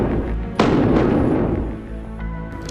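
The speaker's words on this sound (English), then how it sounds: "In the chilling moments that follow," In a home at night, a .40 caliber pistol fires one sharp, booming shot that echoes and fades, with fainter thuds after it.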